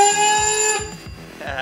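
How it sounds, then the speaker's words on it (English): A loud installed alarm, switched on and off quickly to signal that time is up, gives a piercing electronic tone rich in overtones that cuts off and sounds again, up close. "So I installed that alarm, and I can basically switch it on and off really quickly to let the ragers know that their time is up."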